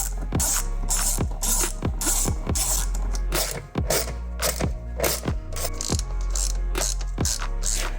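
A hand ratchet loosens 7 mm bolts on the rear door panel of a 2015–2020 Ford F150 with sharp, close, rhythmic clicking bursts of about a dozen pulls, and no talk.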